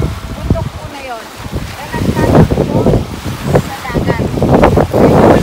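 Surf washing in at a remote shore near Donsol, with choppy sea and gusting wind buffeting the microphone in loud, swelling surges that rise and fall, and voices faintly mixed in.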